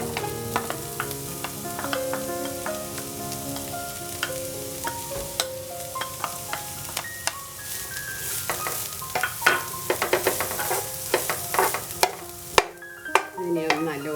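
Chopped onion, green chili, curry leaves, ginger and garlic fry in oil with a dense crackling sizzle, joined by quick clicking spatula taps that get busier and louder toward the end.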